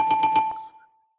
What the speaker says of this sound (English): Hold on, I got to go find the bell.